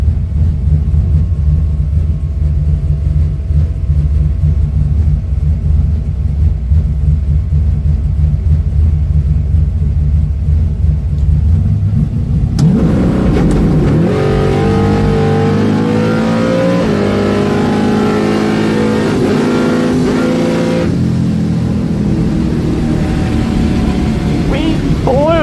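Heard from inside a bracket drag racing car, the engine idles in a loud, steady rumble, then launches and roars as it revs hard down the track, staying loud throughout.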